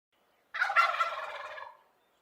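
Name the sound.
turkey gobbling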